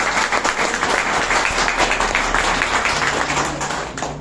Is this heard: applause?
yes